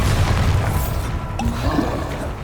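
Bombarda spell blasting during a troll fight in Hogwarts Legacy, a deep, loud boom with a rumbling low end that swells and then holds through the whole stretch amid battle noise.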